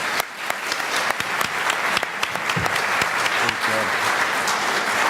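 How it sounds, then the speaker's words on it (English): An audience gives a sustained round of applause after a panel discussion, dense clapping close and loud throughout, with no voices. "So just another round of applause, please."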